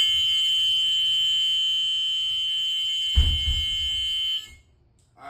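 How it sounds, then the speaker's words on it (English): A school bus rear emergency exit alarm and buzzer sound together as a loud, steady electronic tone, broken once by a short thump of the door before the tone cuts off near the end. "If I pull the handle up and push out, the alarm and buzzer should sound."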